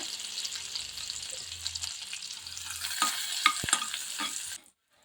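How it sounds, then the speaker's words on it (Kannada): Butter sizzles in a pan for restaurant-style tomato soup, a steady frying hiss with a few stirring clicks before the sound cuts off abruptly near the end. "ಆ ಬೆಣ್ಣೆಯಲ್ಲಿ ಕರಿಯೋಣ ನೋಡ್ರಿ ಈಗ"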